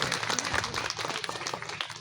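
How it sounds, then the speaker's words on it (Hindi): A crowd applauds to welcome guests at a tribal conference gathering in Latehar, a steady dense clapping that runs throughout without pause. "इनके लिए भी एक बार आप जोरदार ताली के साथ स्वागत करें"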